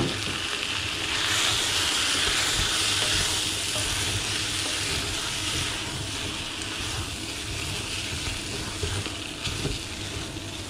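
Wild boar meat for a daube sears in a pan with onion and garlic, a steady moderate sizzle and hiss with soft stirring scrapes underneath, continuous and close, no talking.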